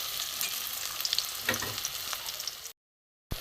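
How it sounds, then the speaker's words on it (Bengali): Flat bean lentil cakes fry in oil, a steady crackling sizzle with occasional sharper pops and soft stirring scrapes, close up, then a brief silence before the sizzle returns. "বটবটির ধোকা আস্তে আস্তে এপিট ওপিট করে ভেজে নিচ্ছি"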